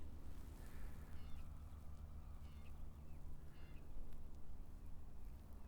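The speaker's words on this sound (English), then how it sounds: "So taking in the sounds of the birds." Crows caw a few times at a distance, scattered and faint, over a low wind-like hum of an outdoor setting in snowy surroundings.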